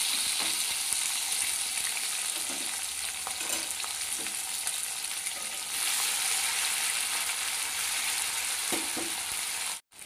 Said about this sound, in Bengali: আমি বাকি মাছগুলোকেও ভেজে নেব।